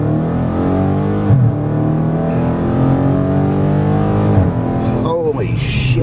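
A Dodge Challenger 392 Scat Pack Widebody muscle car accelerates hard, its loud V8 rising through the revs, dropping briefly at each upshift and climbing again in a close, aggressive roar.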